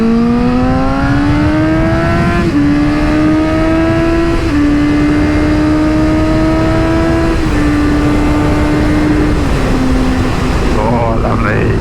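A Suzuki GSX-S 750 motorcycle's engine drones loudly and steadily while being ridden, its pitch climbing through each gear and stepping down at every shift, with continuous wind rush throughout.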